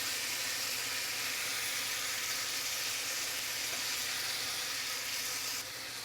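Tomatoes cooking in a hot pan make a steady, even sizzle that stays close and fairly loud throughout, dipping slightly near the end, with no one talking.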